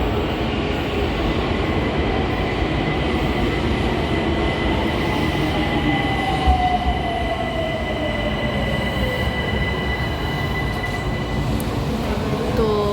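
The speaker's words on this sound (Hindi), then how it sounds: "अब आ रही है मेट्रो।" A Tehran metro train rolls into the station steadily, its rumble filling the space, with a rising wheel squeal and a faint tonal whine as it approaches and slows.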